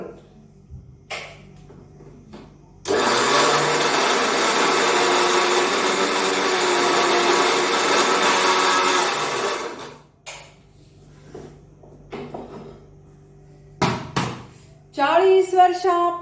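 An old kitchen mixer grinder making chutney whirs loudly and steadily for about seven seconds, then cuts off, with short clatters and brief voices before and after.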